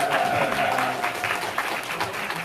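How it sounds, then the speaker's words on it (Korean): An audience at a refugee film festival screening applauds a guest, a steady, moderately loud burst of clapping lasting a couple of seconds. "선생님께 다시 한번 박수"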